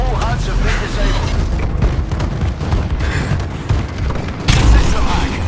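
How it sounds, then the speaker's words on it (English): A bombing run strikes in Call of Duty: Advanced Warfare with rolling, heavy booms and rumbling blasts across the whole stretch, under a game announcer's voice. "Enemy bombing run incoming."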